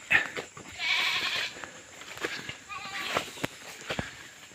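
A goat on a farm bleats in several short, nasal cries, close by, with faint rustling and a voice speaking softly in the background.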